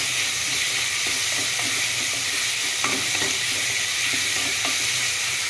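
Tomato, mint and coriander sautéing in a hot pan for a chicken biryani masala, giving a steady close sizzle with a few soft spoon-stirring scrapes and no talking.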